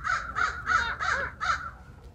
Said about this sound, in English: He hired the crow for the day.